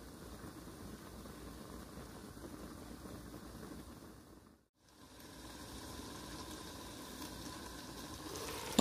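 Glass noodles with carrot simmer in a covered pot over medium heat, giving a faint, steady bubbling hiss that drops out briefly midway, then resumes a little louder.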